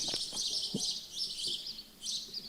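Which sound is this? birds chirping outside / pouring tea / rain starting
birds chirping outside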